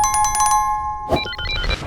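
A bright, electronic-sounding bell rings in quick repeated strikes, then a second burst of chiming tones follows, loud and close.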